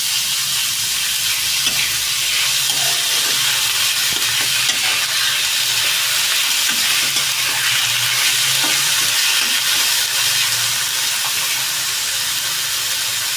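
Ginger garlic paste sizzles steadily in hot oil while being stirred for chicken momos, a loud continuous frying hiss with soft scraping clicks of the spoon throughout.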